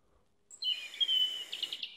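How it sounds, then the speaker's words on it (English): A bird whistle built into the Cadillac Sollei concept convertible gives a short, clear chirping call with a brief warbling trill at the end, close and isolated over near silence. "So you have different whistles for different birds,"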